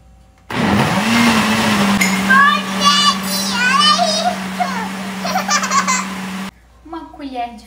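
An electric blender whirs steadily while mixing cake batter made with flour in a home kitchen, running for about six seconds as someone talks over it, then stopping.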